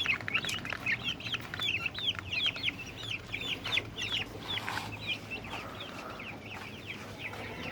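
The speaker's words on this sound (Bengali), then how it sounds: "এখানে মুরগি বাচ্চাগুলোকে খাবার দিছি।" Chicks and hens cluck and peep while being fed, a rapid run of high cheeping calls up close over faint background noise, thinning out toward the end.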